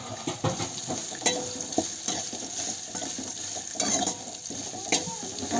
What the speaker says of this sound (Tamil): அதை வந்து நல்லா போட்டு வறுத்துக்கிறேன்.